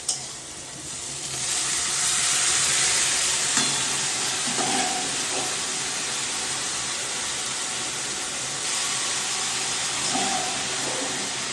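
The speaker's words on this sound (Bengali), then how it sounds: "পেঁয়াজটা লঙ্কাটা বেশি ভাজা করবো না, বেশি ভাজা করলে না তোমার এইটার আবার স্বাদটা চলে যায়" Onion and chili fry in a pan, making a continuous close hiss and sizzle with occasional soft stirring scrapes, alone with no voices.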